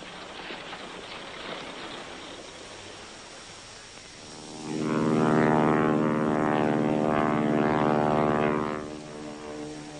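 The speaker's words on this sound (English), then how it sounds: "Plane leaves at 12, Jenny" A propeller airplane departs, its droning engine rising out of background noise, holding loud and steady for several seconds with a harmonic buzz, then dropping away again.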